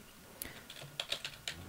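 Computer keyboard keys click softly during a Minecraft game, a short quiet run of irregular taps close to the microphone.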